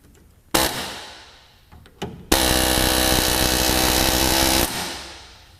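A pneumatic power tool cuts through a part during an LS engine swap on a Porsche 944: two brief bursts, then one loud, steady, near whir lasting about two seconds before it cuts off, with no talk.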